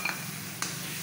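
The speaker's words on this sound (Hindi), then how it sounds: "थोड़ा सा भुनेंगे।" Spinach paste fries in a pan with spices for palak paneer, giving a brief, soft, steady sizzle with a couple of light stirring taps.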